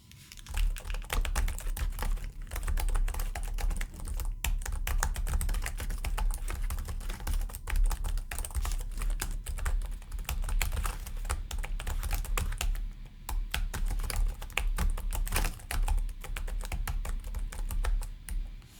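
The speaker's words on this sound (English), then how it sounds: "The sound you create whilst typing won't be too loud for the people around you" Steady, fast typing on a Samsung Galaxy Book Pro 360 laptop keyboard with scissor-mechanism keys, soft clicky keystrokes in a continuous run, close by with no talking.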